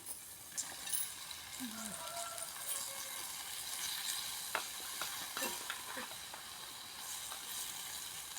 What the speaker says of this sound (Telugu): ఆనియన్స్ అయితే బాగా మగ్గిపోయండి దీంట్లో బెండకాయ ముక్కలు అయితే వేసుకుందామండి